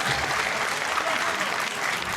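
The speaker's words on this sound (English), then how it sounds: "Let's give them a round of applause." Wrestling show audience clapping, a dense continuous burst of applause filling the hall, steady and loud throughout.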